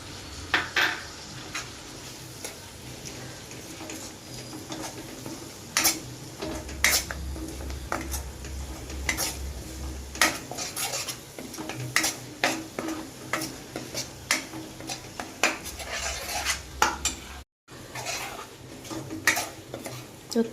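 Sesame seeds roasting in a pan are stirred with a utensil, giving a steady run of scraping and clinking strokes against the metal, close and fairly loud, with a low hum in the background.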